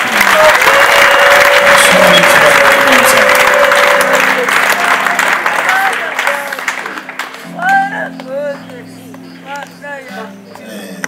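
Congregation applause fills the hall loudly and steadily for several seconds, then fades out as voices and a few scattered claps take over.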